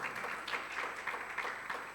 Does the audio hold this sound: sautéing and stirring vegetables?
no